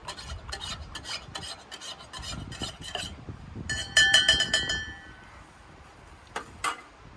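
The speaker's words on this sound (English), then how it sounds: "And then we'll give it a little stir." Spoon stirring coffee and cream in a mug, a run of quick metallic clinks and scrapes against the ceramic, close and fairly quiet, with a few more taps near the end.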